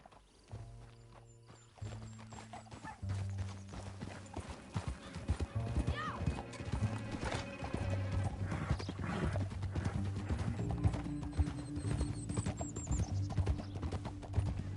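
Steady clip-clop of horse hooves at a quick pace in the video game Red Dead Redemption 2, with an occasional whinny, under a continuous music score and some talk.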